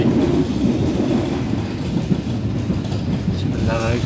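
Inside an Indonesian passenger train carriage approaching Jember station, a continuous loud rumble of wheels and car body fills the space, with steady low roar and faint rattling throughout.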